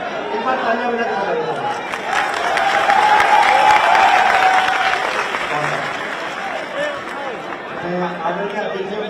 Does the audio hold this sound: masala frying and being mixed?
no